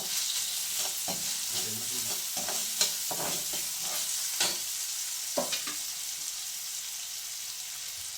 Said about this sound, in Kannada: ಉಪ್ಪು ಈರುಳ್ಳಿ ಬೇಯೋದಕ್ಕೆ ಹಾಕಿದ್ದೀನಿ.